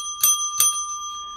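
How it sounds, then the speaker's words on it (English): A small coffee bell rung twice in quick succession, bright metallic dings that ring on with a long sustained tone, close and clear with no talking. "I ring the coffee bell."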